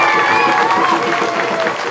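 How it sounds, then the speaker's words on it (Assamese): An audience claps in sustained, dense applause for a young girl, loud and close, with a few voices mixed into the crowd noise. "মই অনুৰোধ জনাইছোঁ সকলোৱে যাতে হাত চাপৰি বজায় আমাৰ দিব্যাংশীক উৎসাহিত কৰে"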